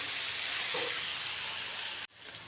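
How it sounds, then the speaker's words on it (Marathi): Chopped tomato and onion sautéing in a pan, a steady broad sizzle that carries on evenly and then cuts off abruptly near the end, with no talking. "आता टोमॅटो पण थोडंसं परतून घेऊ."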